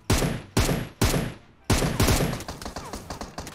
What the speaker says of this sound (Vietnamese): Một thằng bắn UMP, một thằng bắn mini.